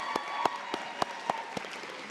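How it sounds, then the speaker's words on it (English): A small scattering of audience claps at a nursing convocation pinning ceremony, with a few distinct, spaced hand claps ringing out over a quiet room. "A round of applause for this group"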